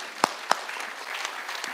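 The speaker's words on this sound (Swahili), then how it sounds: "Haya, pigieni RC makofi." Brief burst of clapping for a regional commissioner at a public security forum in Migori Town, with a couple of sharp claps standing out over a soft, scattered patter from the crowd.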